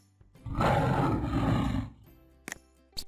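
A lion lets out one deep, loud roar lasting over a second, then fades, followed by a couple of short sharp knocks near the end.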